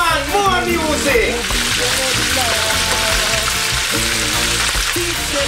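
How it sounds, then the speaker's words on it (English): Steady loud sizzling of red snapper frying in a pan fills the clip, with reggae music playing and a voice talking over it. "Snapper fish are frying and the pan."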